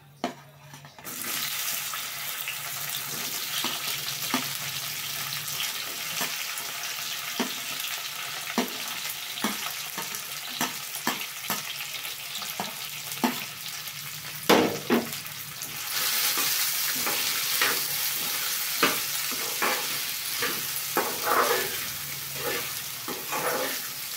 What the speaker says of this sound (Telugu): ఇప్పుడు ఉన్న ఈ ముక్కలు కూడా వేసేసుకుందామండి అదే ఆయిల్లో